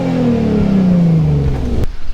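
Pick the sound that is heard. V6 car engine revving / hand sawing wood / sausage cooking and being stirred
V6 car engine revving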